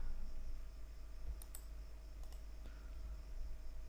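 A few sparse, faint key clicks from a computer keyboard as a website link is typed into a URL box, heard alone over a low steady hum.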